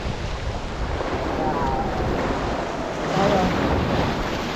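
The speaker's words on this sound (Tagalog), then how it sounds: "enjoy na natin itong dagat" Sea surf rolling in at Patar Beach in Bolinao, Pangasinan at sunset, a steady broadband wash of waves mixed with wind buffeting the microphone, swelling slightly louder near the end with no talking.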